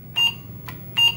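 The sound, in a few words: Apple II Plus computer beep on control reset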